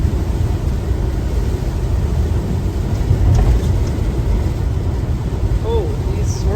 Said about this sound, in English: I thought we were done with the rain. What's this now?